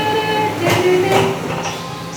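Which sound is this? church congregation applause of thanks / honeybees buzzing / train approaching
train approaching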